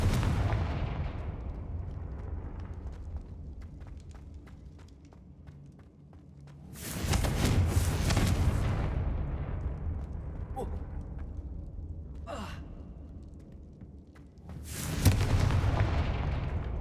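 Confringo fire spell cast in the video game Hogwarts Legacy, two loud broadband explosive bursts a few seconds apart, each swelling and fading over a steady rumbling game background.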